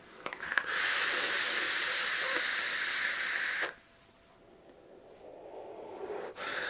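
A long, steady airy hiss of a draw on an OXVA Arbiter Solo vape running at 23 watts lasts about three seconds, close and loud, then breaks off into a softer breathy exhale and a brief final inhale.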